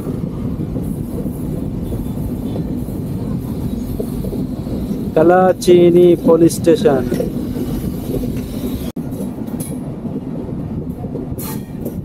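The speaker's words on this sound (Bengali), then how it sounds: "কালচিনি বাজার, বাজারের মধ্যে দিয়ে যাচ্ছে ট্রেন" The Kamakhya Capital Express rolls slowly around a curve through Kalchini bazaar with a continuous heavy rumble of wheels on rail and a brief squeal of wheels midway, while someone speaks briefly over it.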